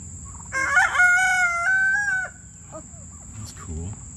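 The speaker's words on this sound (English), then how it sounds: "You hear that? Rooster." A rooster crows once, a loud, drawn-out cock-a-doodle-doo close by outdoors, followed by a few softer clucks and faint background noise.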